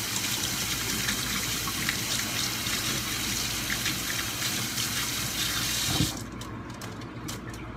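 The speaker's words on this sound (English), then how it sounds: "Wash my hands." Kitchen tap water running steadily into a sink while hands are washed during chili preparation, a continuous close gushing splash that cuts off abruptly near the end, leaving faint drips.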